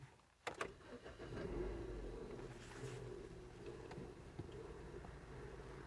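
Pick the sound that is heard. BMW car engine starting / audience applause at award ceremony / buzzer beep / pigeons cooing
BMW car engine starting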